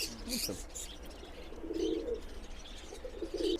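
Omani pigeons coo in soft, low repeated bursts, with a few higher chirps and brief wing rustle among them, moderately close against a noisy background.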